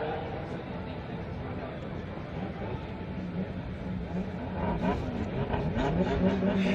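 A 2JZ-powered Toyota 86 drift car pulls away from the start at a Formula Drift event in Orlando, its engine building in a loud, rising roar while an announcer talks over it.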